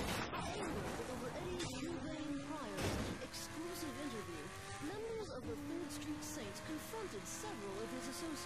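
Car driving with tires skidding and squealing in the video game Saints Row: The Third, engine and tire noise continuous and loud throughout, with gameplay speech layered over it.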